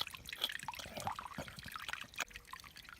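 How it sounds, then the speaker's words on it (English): A small pool of water in a video game gives off faint, soft trickling and dripping, with scattered light droplet splashes running irregularly throughout. "A small pool of water has formed."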